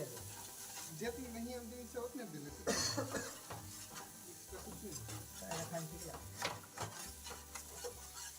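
Chhana bhujiya, crumbled paneer cooked in oil, is stirred in a kadai with a spatula, giving soft scraping and a gentle sizzle. A voice talks over the cooking and there is a brief cough.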